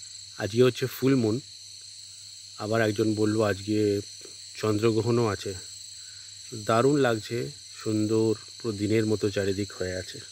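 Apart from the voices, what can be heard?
crickets and insects chirping at night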